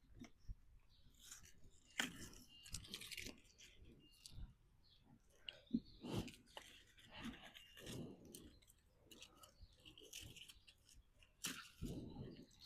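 Large leafy green leaves are cut from the base of the plant in a small garden, giving soft, crisp snips and rustling crunches, near and faint, scattered irregularly with no speech.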